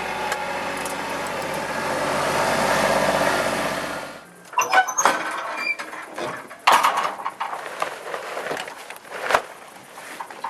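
A ute engine runs loudly for about four seconds as the vehicle backs up on a garden site, then cuts out, leaving quieter clunks, knocks and shuffling sounds close by.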